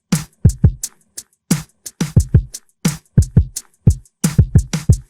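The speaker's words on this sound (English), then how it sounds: "Here's a drum pattern we'll be using for today's example." A drum pattern programmed in Native Instruments Maschine, punchy kick and snare hits with crisp hi-hats in a steady repeating groove, dry, loud and close with nothing else heard.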